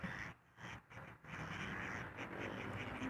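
Wild ducks quack repeatedly while bread is tossed into the water for them, several birds calling close by over steady outdoor background noise with brief pauses between bursts.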